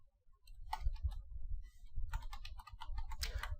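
Fast, close keystrokes on a computer keyboard tap out an IP address in quick, uneven clusters, faint but clear and alone.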